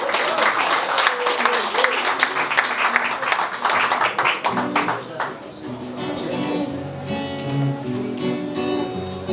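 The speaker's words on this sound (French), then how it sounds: "Il est au violon, mais tout le monde applaudit" A concert audience at a mixed-band music event applauds loudly for the first few seconds while a violinist plays, then the clapping fades as music and singing carry on.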